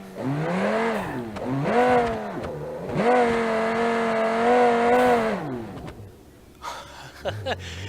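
A loud truck engine in the video game BeamNG.drive revs hard off-road, pitch climbing and falling in long surging sweeps, then drops off with some clatter at the end.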